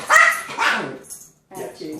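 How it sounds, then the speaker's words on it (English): Small puppies bark in short yips close by, a few sharp barks separated by a brief pause, with a person's voice mixed in. "And with our little puppies here, this is our Sarah, by the way."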